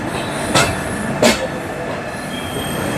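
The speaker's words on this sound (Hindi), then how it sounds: "इसी के साथ विजयवाड़ा में एंट्री लेते हुए कोरोमंडल" The Coromandel Express rolls into Vijayawada junction, its carriages rumbling steadily with metallic wheel squeals and two sharp clanks over rail joints, loud and close.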